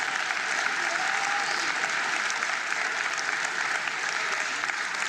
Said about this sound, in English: Let's give them another round of applause indeed.